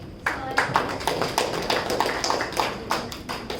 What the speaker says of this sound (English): I want to give a huge round of applause to this guy